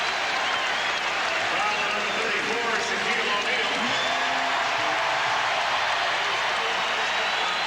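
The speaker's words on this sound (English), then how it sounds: "the crowd exults as the foul is called on Shaq" A basketball arena crowd at a 1998-99 NBA regular-season game between the Los Angeles Lakers and the Orlando Magic roars after a foul is called on Shaq, a dense, steady wash of cheering and noise that fills the whole stretch.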